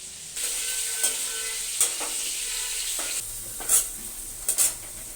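Tomatoes are mashed and fried with a spatula in a hot pan: a steady sizzle runs throughout, broken by several sharp scrapes and knocks of the spatula against the pan, with no talking.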